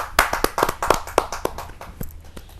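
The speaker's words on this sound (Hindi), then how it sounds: "जोरदार ताली के साथ।" Audience at a Hindi kavi sammelan poetry gathering claps sharply, a run of distinct, fairly close hand claps at an uneven rhythm that thins out toward the end.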